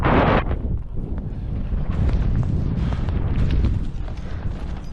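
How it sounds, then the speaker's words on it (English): Strong wind roars and buffets the microphone high on Mount Everest near the Lhotse face, a loud steady rush with gusty surges and no voices. "it's getting windy."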